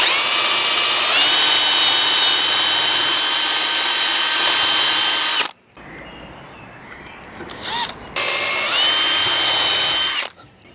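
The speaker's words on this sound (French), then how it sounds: "On va maintenir le guide bien à plat dessus, et on va faire notre premier trou." A power drill bores a dowel hole into a wooden board through a drilling guide, whining loud and steady for several seconds, dropping briefly, then spinning up again in a second short burst.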